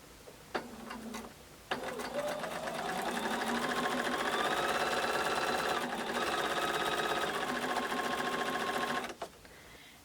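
Sewing machine chain-piecing matching fabric pieces from a quilt kit: a long continuous run of rapid, even stitching, loud and close, briefly easing mid-way before stopping, with a short whir just before it begins.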